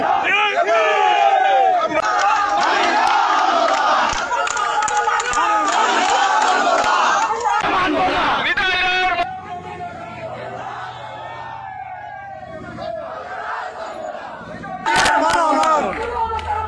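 Party activists protesting a nomination at night chant slogans loudly in unison, a close, rough wall of shouting voices that rises and falls in bursts, dips briefly into murmuring crowd noise, then surges back.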